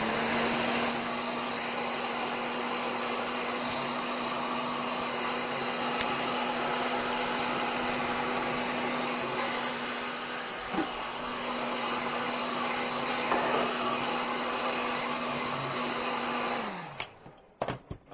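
Heat gun blowing hot air to activate glue on custom orthotics, a loud steady whooshing hum with a constant tone running unbroken for about seventeen seconds, then cutting off abruptly with a few clicks.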